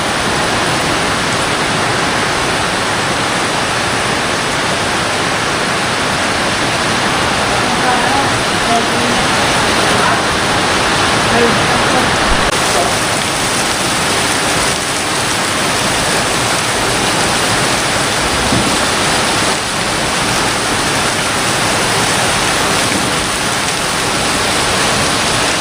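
Very heavy evening rain pours down during a power outage, a dense, unbroken roar of water hitting surfaces that holds steady and loud throughout.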